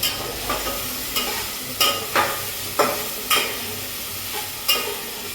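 Spices and green chillies dry-roasting in a pan for masale bhat, a soft steady sizzle broken by regular scraping spatula strokes about every half second to second, close and without talk.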